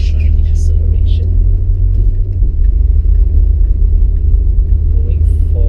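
A 2005 Hyundai Accent WRC rally car with a 4-speed gearbox accelerates on the road, heard from inside as a loud, low, steady engine rumble and road drone, with brief soft talk at the start.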